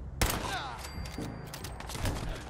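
Gunfire in Fallout 4 comes as a sharp opening shot followed by a rapid, close burst of crackling rounds, with a voice talking over it.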